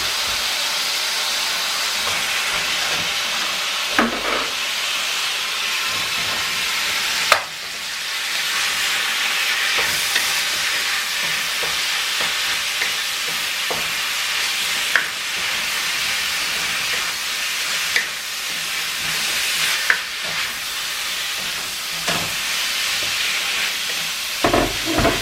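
Ground meat for spring roll filling fries in a pan with a steady, even hiss. Sharp spatula clacks against the pan break in every few seconds as it is stirred, with no talking.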